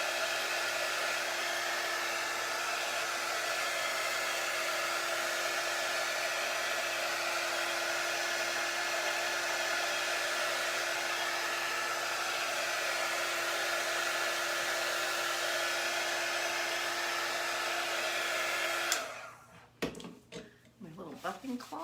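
A heat tool blows a steady, close whirring hiss for about nineteen seconds, melting freshly applied wax into wood grain, then cuts off abruptly and gives way to a few faint handling clatters.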